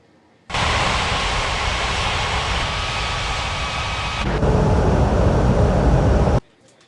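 Airliner landing in an air traffic control game, a broad, steady engine roar that starts abruptly, holds loud and even, swells slightly near the end and then cuts off sharply. No one talks over it.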